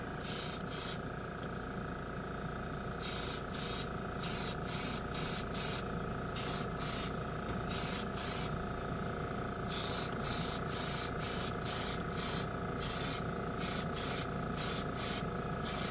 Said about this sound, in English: Just going to spray half of it